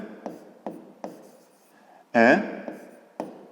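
Writing a geometry solution by hand, a series of short scratchy pen or chalk strokes at a steady pace, with a voice talking briefly in the middle.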